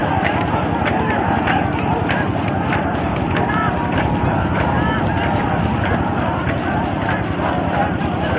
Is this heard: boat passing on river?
yes